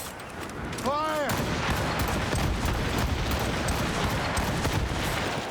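Ship guns fire a volley in Assassin's Creed Rogue, a dense roar of cannon blasts that carries on for several seconds after a brief shouted voice at the start.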